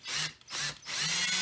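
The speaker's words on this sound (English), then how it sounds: "we're going to drill a 3/32 hole right through the back of the cane" A battery hand drill with a 3/32 bit bores a hole through the back of lead came, whining in two close bursts with a brief dip between, then a steady run to the end.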